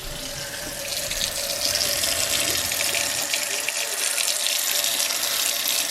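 Water runs from a sink tap in a steady, hissing splash that grows slightly fuller and then flows continuously, close and clear, with no voices.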